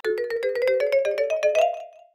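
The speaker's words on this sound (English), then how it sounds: "Oh, and the doorbell too." A doorbell effect from the Tomodachi Life video game plays alone as a quick run of bright, chiming electronic tones that climbs steadily in pitch over about two seconds before fading out.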